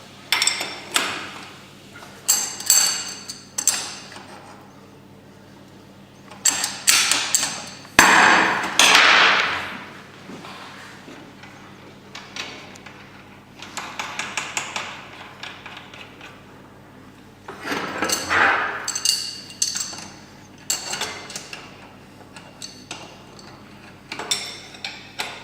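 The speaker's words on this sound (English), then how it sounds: "This is where you'll need the 22 spanner here," A 22 spanner tightens the wheel of an I-CHAIR X3000RS wheelchair during assembly, giving irregular metallic clicks, ratcheting scrapes and knocks in clustered bursts with quiet gaps between, close and fairly loud.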